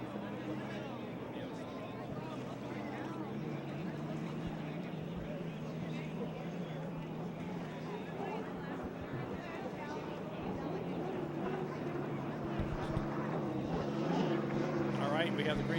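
A hydroplane's piston engine pops and drones steadily at a lake race course, a continuous loud rumble with rhythmic popping that swells slightly toward the end, with a voice talking over it.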